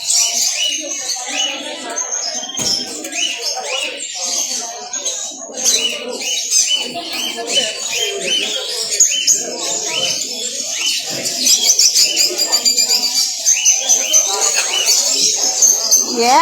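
Many small caged birds at an indoor bird fair chirp, tweet and coo densely and continuously, with crowd chatter and voices mixed throughout, fairly loud and close.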